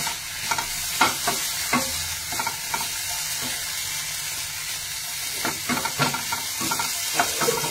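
Food being sautéed in a pan, a continuous sizzle broken by clusters of scraping stirs that pause midway and then resume, loud and close with no voices.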